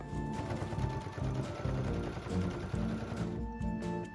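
A sewing machine hems a robe, its needle running in a steady, fast mechanical chatter with brief rhythmic pauses, close and fairly loud, with no talking.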